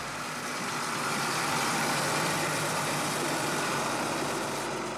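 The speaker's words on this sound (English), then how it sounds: "Each time the truck risks breaking down." An old truck's engine running steadily with a low rumble and broad, continuous noise, fairly constant in level throughout, with no voices.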